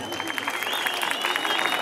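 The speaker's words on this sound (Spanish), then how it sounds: "¿cuál es el aplauso?" Crowd applause and cheering at a jaripeo contest in Santa Catarina Minas, Ocotlán, Oaxaca, a steady dense roar of claps and voices with a shrill whistle rising through it, fairly loud and continuous.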